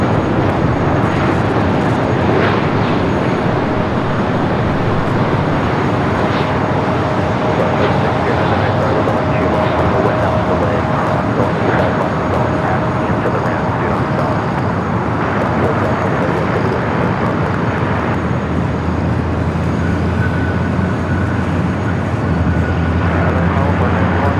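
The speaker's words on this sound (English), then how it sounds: "Hawaiian A330 next up" A Hawaiian Airlines Airbus A330 at LAX airport, its jet engine roar loud and continuous for the whole stretch, broad and steady with traffic-like rumble underneath and a voice talking over it.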